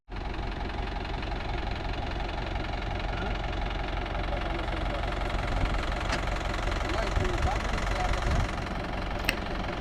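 A tractor engine runs at a dewatering site, a steady close mechanical drone with a faint knocking pulse and little change in pitch, plus a few brief sharp clicks toward the end.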